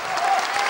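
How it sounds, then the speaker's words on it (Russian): Audience clapping for young performers at a stage concert: a short, dense burst of applause filling the hall at moderate loudness. "Аплодисменты, аплодисменты юным и талантливым артистам."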